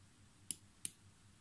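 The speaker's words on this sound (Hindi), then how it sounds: "राइट क्लिक प्रेस करके बैक करता हूँ ठीक है देखते हैं" Two sharp computer mouse right-button clicks, evenly spaced about a third of a second apart, crisp and close against a faint room hiss, during a mouse repair test.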